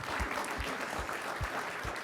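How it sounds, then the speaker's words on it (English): An audience applauds at an event on space in Los Angeles, a steady wash of clapping heard faintly and at a distance, with low thumps recurring underneath. "More applause."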